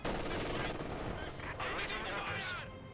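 MG-42 machine gun fire rattles in the Company of Heroes 2 battle game, dense bursts of automatic shots packed together with battle noise, loud and continuous for about three seconds.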